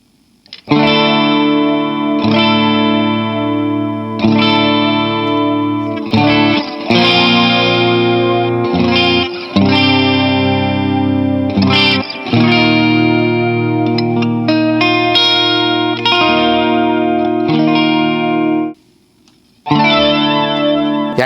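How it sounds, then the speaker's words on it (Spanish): Electric guitar through the flanger effect of a Mooer Mod Factory MKII pedal, strummed chords and riffs with a sweeping, whooshing modulation over about twenty seconds, loud and steady with one brief pause near the end. "Vamos con el flanger."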